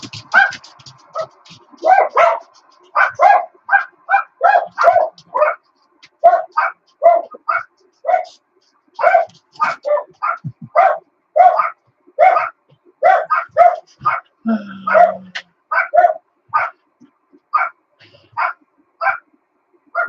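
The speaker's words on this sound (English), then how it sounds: "Now my dogs are going to go crazy." Dogs barking over an amateur FM radio transmission, a long run of sharp, loud, repeated barks and yips in irregular clusters, with a brief faint whine partway through and no one talking.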